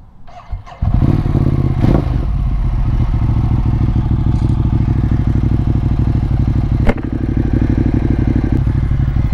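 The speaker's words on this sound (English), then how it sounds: "Let's turn the bikes on." Several motorcycles start up one after another at the outset of a group adventure ride in West Virginia, then settle into a loud, steady, rumbling idle nearby, with a brief clatter and a blip of revs partway through.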